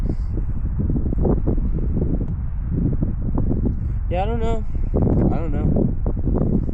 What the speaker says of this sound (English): It's also windy and cold